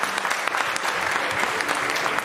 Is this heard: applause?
yes